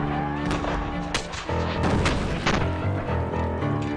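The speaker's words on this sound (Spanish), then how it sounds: "los centinelas e hicieron fuego. A ellos se unieron los cañones." Volleys of musket fire and booming cannon shots in a night battle at a fortified position, dense and continuous explosions layered over one another, loud and chaotic, with a narrating voice underneath.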